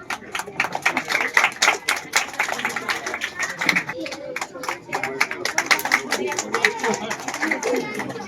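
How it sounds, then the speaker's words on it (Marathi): An audience claps through a school felicitation ceremony where a shawl and coconut are presented, producing a dense, continuous patter of applause while a person speaks over it. "शाल आणि श्रीफळ सर्वांनी टाळ्या वाजवत आहेत।"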